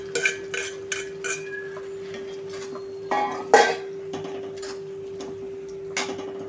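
Fried cauliflower and potato pieces go into masala in a pan, heard as a few close clinks and scrapes of a spoon against metal over a steady low hum, and nobody talks.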